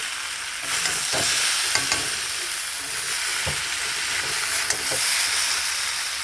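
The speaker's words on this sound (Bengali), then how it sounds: "কষিয়ে ভাজা মশলার সঙ্গে একটু ভেজে নিচ্ছি বন্ধুরা" Spices fry in a pan with a loud, steady hiss of hot oil, broken by a few soft scrapes and stirs of a spatula close by, with no voices.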